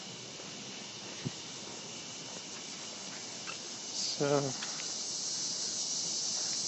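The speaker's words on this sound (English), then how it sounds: "here the cicadas" Cicadas buzz outdoors in a residential street of Old Louisville, a steady, faint, high drone throughout, with a brief spoken word and some passing squeaks partway through.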